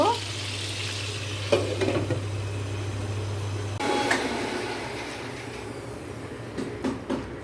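Pointed gourd (potol) frying in oil gives a low, soft sizzle with occasional stirring scrapes, a steady low hum in the first half, and no talking.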